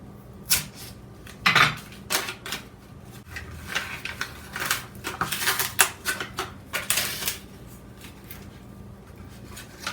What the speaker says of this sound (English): I'm just going to peel that and then press a spoon in there to open it up